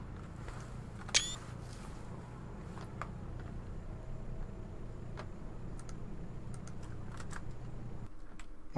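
Sparse keystrokes on a computer keyboard tap out as scattered single clicks over a low steady hum, quiet and irregular, with one sharper click early on.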